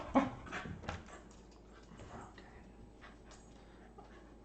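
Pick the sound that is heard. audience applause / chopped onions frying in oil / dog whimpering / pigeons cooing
dog whimpering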